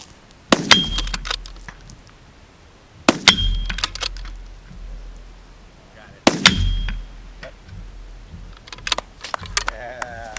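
Three sharp gunshots a few seconds apart, each followed by a ringing metallic clang as the rounds strike a steel spinner target outdoors, the echoes decaying between shots.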